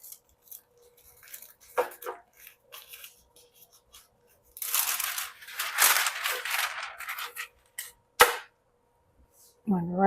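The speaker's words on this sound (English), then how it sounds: "a bit of parchment." Parchment paper is handled in a kitchen while a pan is prepared for baking, with sharp crinkling and tearing rustles in bursts, one longer crackly stretch, and a few short clicks and knocks close by.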